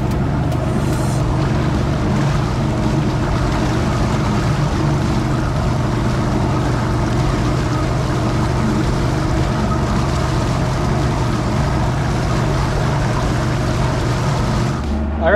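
An old Mercury outboard motor running steadily in a driveway after a water pump impeller replacement, a loud, continuous, even engine drone that cuts off at the very end.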